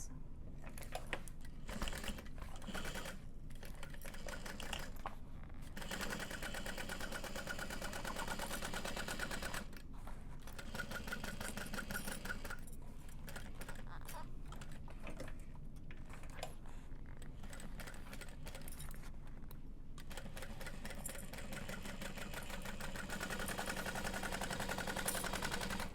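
A sewing machine stitches a seam on a tote bag with a 1/2 inch seam allowance, a fast, continuous mechanical rattle that stops and restarts several times over a long stretch.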